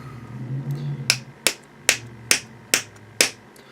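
Fly-tying hair stacker tapped firmly on a bench to even out hair, six sharp, evenly spaced knocks close by after a soft rustle, no voices.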